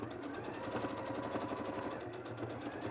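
A sewing machine runs back and forth to back stitch fleece, giving a continuous, fairly quiet mechanical whirr with a fast, even pulse.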